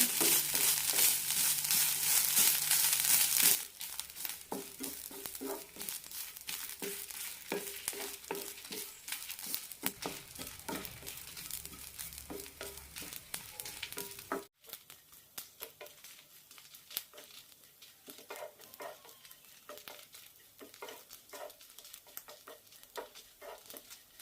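Grated coconut roasts in a pan for green gram chamanthi, giving a faint dry sizzle with repeated scraping, stirring strokes that continue steadily for over twenty seconds.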